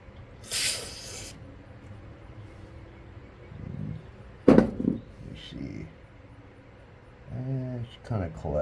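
CRC brake cleaner sprays onto the idle needle of a nitro RC carburetor in a short, loud hissing burst near the start, followed by handling clatter and someone talking.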